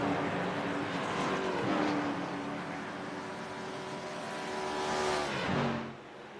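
Stock cars, Monte Carlos and Impalas, circle the track at Daytona, a sustained engine drone with rising and falling pitch as cars pass, swelling near the end before fading away.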